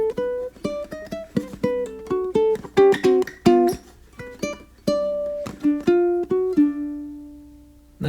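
Plucked ukulele notes and quick strums trace a blues lick from the pickup through the first two measures, played up close in a steady rhythm and settling on a long ringing final note.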